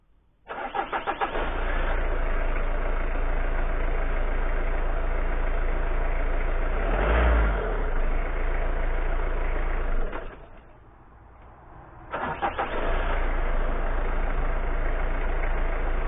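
A Citroen ZX Break with a weak battery cranks and fires up, then settles into a steady, loud idle close by; the engine note dips briefly near the end before returning to an even idle, with no voices.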